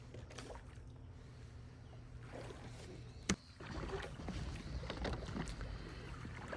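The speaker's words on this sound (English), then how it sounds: "Rowing the OarBoard feels a lot like rowing a racing shell, though certainly not quite as fast." An OarBoard rowing board is rowed on a lake, with soft rhythmic oar splashes and water swishing against a low breezy outdoor background, one sharp knock midway.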